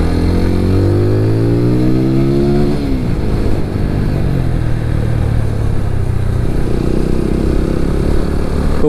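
Apache RTR 200 4V Race Edition motorcycle, BS6 version, with a basic stock exhaust, revving up and dropping back before settling into a steady, loud, close idle rumble.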